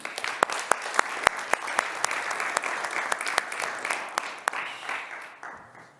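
A conference audience applauds a speaker in a hall with dense, steady clapping and a few sharper nearby claps. The applause thins and fades out near the end.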